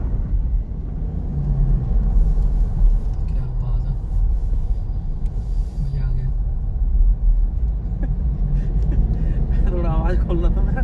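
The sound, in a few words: Toyota Fortuner driving on test drive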